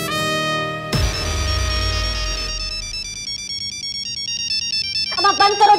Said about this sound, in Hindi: ये चेंज करो अपना रिंगटोन